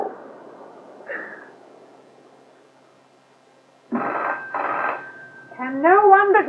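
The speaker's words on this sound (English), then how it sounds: "Can no one but me answer the phone?" A telephone rings in a home setting in a 1980 radio drama, two buzzing double-burst rings, moderately loud, following quieter murmured talk, with a voice speaking right after.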